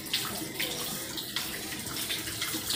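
Water runs from a tap while paint brushes are washed, a soft steady splashing flow with small spattering bursts, fairly quiet and brief.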